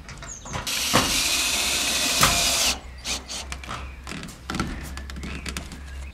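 A power screwdriver drives screws through a roof tile edge strip onto a garden shed's tile panel roof, a loud whirring burst followed by shorter buzzes and scattered knocks.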